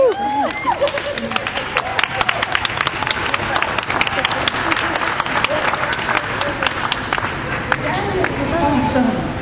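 Crowd at a Darius Franklin Douglas Washington event bursting into loud sustained applause and cheering, dense clapping with whoops and shouts throughout, close and energetic.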